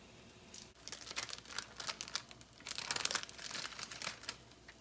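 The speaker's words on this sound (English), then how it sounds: "So unwrap the cheese." A plastic wrapper is peeled off a cheese slice for a grilled cheese sandwich, giving close, quiet crinkling and rustling in irregular bursts, busier toward the end.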